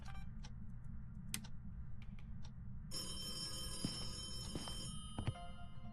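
A telephone rings inside a haunted house in the ghost-hunting game Phasmophobia, its bright tonal ring starting midway and continuing for about two seconds over a low ambient rumble and scattered clicks.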